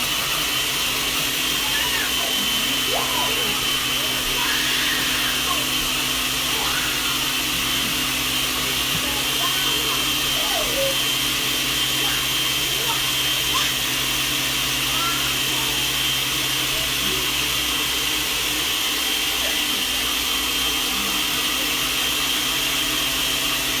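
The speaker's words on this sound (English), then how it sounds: "Now it's going to get noisy because we're going to blast it in the blender" A kitchen blender blasts almonds and water into almond milk, a loud, steady whir that runs unbroken from start to finish with no pauses.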